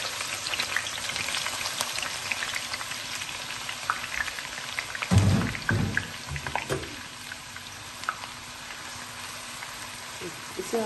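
Finely chopped onions fry in leftover hot oil with a loud, steady sizzle and crackle, briefly louder as they hit the pan midway. A voice talks intermittently over the frying.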